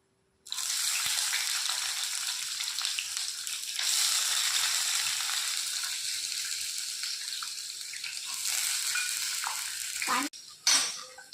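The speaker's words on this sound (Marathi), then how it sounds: "आता आपण फ्राय करून घेऊ. मी टाकून दिलं शेंगदाणे. आपण कांदे टाकूया." Peanuts and onions frying in a little oil in a pan give a steady, close hiss of sizzling that runs almost without a break, with a few louder bursts near the end.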